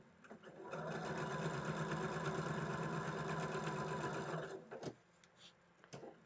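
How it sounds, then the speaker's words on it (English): Sewing machine stitching two rows of quilt blocks together, a steady close-up whir running for about four seconds before stopping, followed by a few light clicks and handling sounds. "now we just sew our 2 rows together, and this block will be done"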